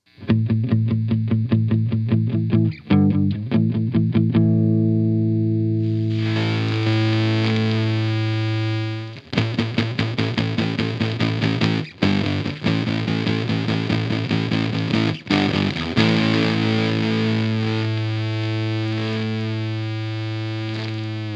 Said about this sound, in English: Listen to what happens to these palm muted strums as we crush the bit depth down.